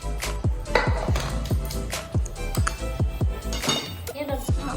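A metal kadhai wok is handled in a home kitchen while making dry fruit laddus, giving a quick run of close, ringing metallic clinks and clanks, with a voice talking in the background.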